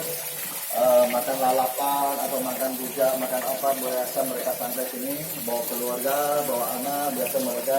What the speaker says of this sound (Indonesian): Nah itu gemercik itu suara air terjun.